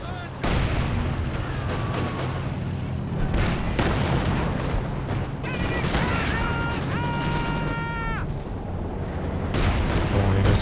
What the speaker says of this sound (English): Major artillery coming down, hoping to clear off the bunker